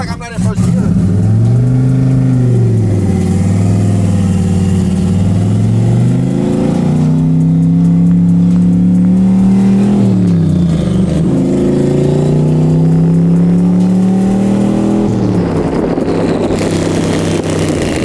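A Camaro's engine revs and accelerates loudly and up close, its pitch repeatedly climbing and dropping back over several throttle pulls with a continuous rumbling drone.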